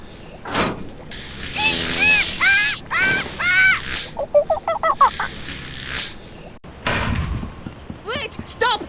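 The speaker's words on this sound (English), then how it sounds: "Slovenly parrots! Leaving their trash floating all over the place!" Parrots in the video game Tales of Monkey Island squawk in a loud run of harsh, honking cries, some rising and falling, others in quick stuttering bursts over several seconds.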